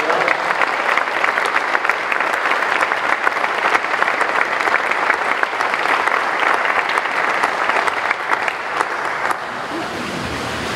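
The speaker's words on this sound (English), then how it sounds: "I would like you to give him a round of applause" At a building kick-off event, an audience applauds Ted McMeekin with loud, sustained clapping that carries on for several seconds before thinning and tapering off near the end.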